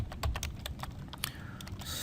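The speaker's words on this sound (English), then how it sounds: "So I'm just typing in" Quick, irregular clicks of typing on a computer keyboard fill a short stretch of quiet, each keystroke close and crisp with no talking.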